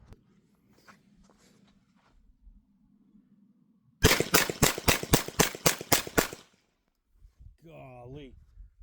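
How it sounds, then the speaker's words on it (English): Glock G44 .22 pistol fired outdoors, a quick string of about ten sharp, loud cracks in steady rhythm, preceded by low background hum and followed by a brief voice. "So now maybe I'll just rattle off a couple rounds."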